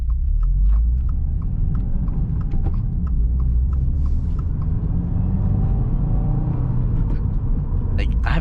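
A turbocharged car drives along with a steady low engine rumble from inside the cabin, broken by scattered clicks and knocks, and a voice briefly heard near the end.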